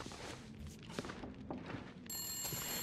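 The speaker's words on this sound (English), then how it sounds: "Oh, there is a phone." An old telephone rings inside a building in the survival video game The Long Dark, and the rings turn clear and steady near the end, heard over faint footsteps and thuds.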